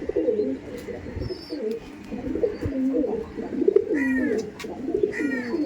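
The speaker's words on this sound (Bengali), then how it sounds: "এই ছিল পায়রাটা খুবই সুন্দর পায়রা" Tournament-flying pigeons at a Howrah loft coo steadily, with low throaty calls overlapping throughout, close and moderately loud, joined by a few brief higher chirps.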